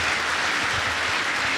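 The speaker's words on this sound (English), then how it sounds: "Let's give a big round of applause to these remarkable students for hard work and dedications." A school auditorium audience applauds students at a high school felicitation ceremony, giving a steady, dense wash of clapping that holds evenly from start to finish with no voices.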